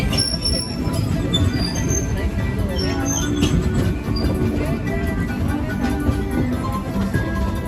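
The Disneyland Railroad train runs steadily with a continuous rumble of wheels on track and faint high squeals, while a recorded announcement voice talks over it.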